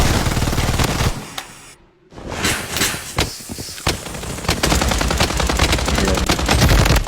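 Rapid automatic gunfire from the Bloodstrike battle royale video game hits a wall, loud and dense, with a brief silent gap before the shooting resumes in sustained bursts.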